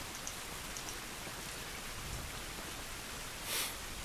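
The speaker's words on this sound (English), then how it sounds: "It's raining, but it isn't good." Rain in the video game The Last of Us Remastered, a soft, even downpour hissing steadily at low level, with a few faint drips and one brief brighter splash near the end.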